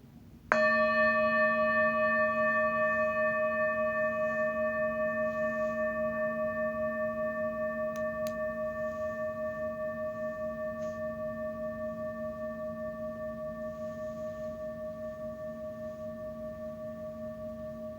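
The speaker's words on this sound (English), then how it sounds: "Follow the sound of the bell into silence." A single meditation bell is struck once, ringing out clear and pure, then its tone slowly fades over many seconds toward silence in a quiet room.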